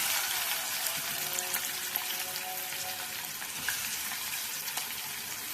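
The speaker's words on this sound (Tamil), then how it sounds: "வெங்காயம் நல்லா வதங்கிட்டுது." Steady, dense sizzling of chopped onion frying in hot oil with cardamom, a continuous crackling hiss with occasional tiny pops, no voices.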